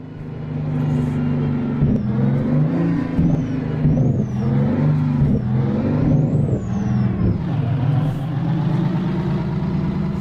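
A Mack truck engine drones steadily while driving in American Truck Simulator, a loud, continuous low rumble with gear-shift dips and brief pitch changes, heard alone without talk.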